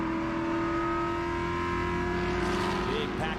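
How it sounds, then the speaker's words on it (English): A big pack of race cars in a GridLife Touring Cup opening lap at Autobahn Country Club, engines droning and revving together loudly as they run three wide into the first corner, with pitch rising near the end. "Big pack of cars. They're 3 wide to the first corner here."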